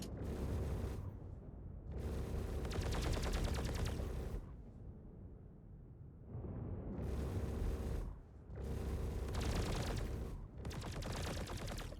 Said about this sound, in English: Seems like they hull penetrated me just a little bit here with their turrets.